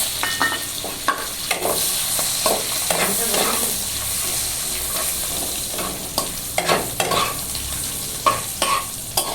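Cashews and bay leaves frying in hot oil in a home kitchen, with a steady sizzle and repeated scraping of a stirring spoon, close and fairly loud.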